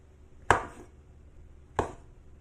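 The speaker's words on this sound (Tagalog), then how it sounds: "Then ito yung isang klase na mushroom, kulay brown, ganyan lang. Slice lang din natin yan." Two crisp knife cuts through brown mushrooms on a cutting board, each a sharp tap with a short decay, spaced over a second apart in a quiet kitchen.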